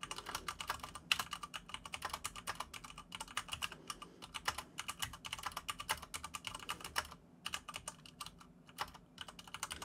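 Fast, steady typing on a computer keyboard during a Stormgate tournament final, dense clicky keystrokes running continuously at close range with no talk over them.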